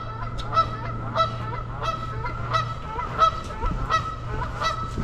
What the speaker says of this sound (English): We got Geese Island over here.